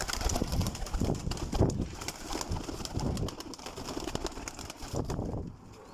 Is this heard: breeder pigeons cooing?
yes